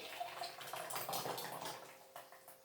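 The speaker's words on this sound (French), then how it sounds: "j'ai beurré mon Pichet Micro-Cook. Je vais tout simplement y verser ma préparation." Thick lobster terrine mixture poured from a bowl into a buttered Micro-Cook pitcher, a soft continuous wet pouring and splattering sound, close and fairly quiet, with no talking.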